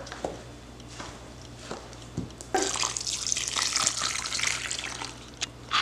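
Two cups of water pour into a bowl of Bajan conkies mixture, a steady splashing gush that starts abruptly partway through after a few faint clinks and keeps running close by to the end.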